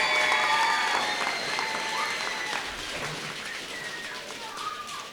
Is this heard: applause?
yes